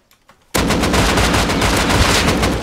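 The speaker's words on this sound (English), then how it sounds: "missed like literally 5 shots at point blank range" Gunfire in the video game Rust, a sudden loud burst of rapid shots that keeps up as a dense, continuous rattle after a short quiet opening.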